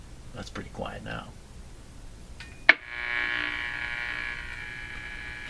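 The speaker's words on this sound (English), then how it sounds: "sound was a automatic light coming on in my laundry room" Automatic light in a home laundry room switching on, a sharp click followed by a steady buzzing electrical hum that carries on to the end, after brief faint talk.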